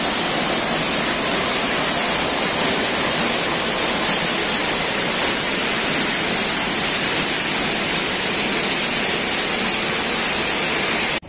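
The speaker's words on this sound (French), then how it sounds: "Vous avez ce petit endroit de cascade." A small waterfall in Brittany pours in a steady, loud, unbroken rush of falling water, close by and continuous, with no voices over it.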